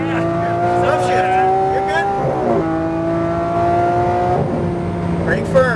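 Lamborghini engine held at full throttle on a racetrack, a loud steady high-revving drone that climbs in pitch, drops sharply at an upshift and climbs again, with brief tire noise and a voice talking over it.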